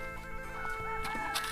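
Chickens cluck and squawk in short bursts in a rural Lao village, over a steady background hum, fairly close, with no talking.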